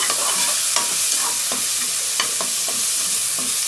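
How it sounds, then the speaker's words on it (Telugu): Two spoons of ginger-garlic paste fry in a pan for a prawn and ridge gourd curry, with a close, steady sizzle broken by repeated scraping stirring strokes. "అల్లం తెల్లగడ్డ పేస్ట్ వేస్తున్నాను ఒక రెండు స్పూన్లు ఇది కూడా బాగా వార్చుకోవాలండి పచ్చివాసన లేకుండా"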